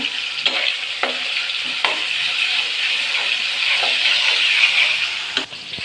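Chopped tomatoes frying in a spiced masala for a koi fish dish, giving a steady close sizzle and hiss with a few soft stirring scrapes throughout and no talking.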